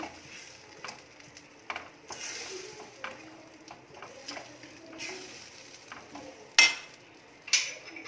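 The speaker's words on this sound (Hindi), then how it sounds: "अच्छे से मिक्स करेंगे इसे" Boiled black dal is stirred in a pot for Punjabi ma chole di dal, with wet scraping strokes, light sizzling and a few sharp ladle knocks against the rim, heard up close.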